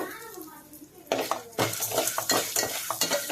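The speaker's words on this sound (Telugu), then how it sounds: "మొత్తం ఈ విధంగా మిక్స్ చేసుకున్న తర్వాతకి మూత పెట్టేద్దాం" Popcorn kernels being stirred with salt in a metal pan: brisk scraping and rattling strokes start after a quiet second, with light clinks against the pan and a faint sizzle.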